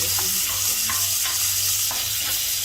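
Prawns frying in a wok for egg fried rice, with a constant loud sizzle and the scrape of repeated stirring strokes.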